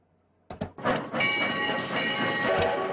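Train rolling in the WWII strategy game Strategic Command, a steady rumbling and clattering run that starts after a couple of sharp clicks and holds at a constant level, with a brief higher squeal near the end.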